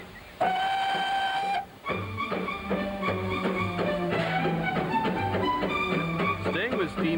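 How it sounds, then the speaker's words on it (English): A Vale of Rheidol steam train near Aberystwyth gives a long, bright whistle, then runs on with steady rhythmic chuffing and rail clatter, loud and close throughout. "Staying with steam power, but on a different track, as I hopped aboard one of our great little trains, the Vale of Rheidol"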